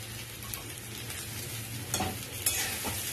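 Washed flattened rice (chira) frying in a pan, a steady close sizzle with a low hum beneath and a few sharper spatula scrapes toward the end.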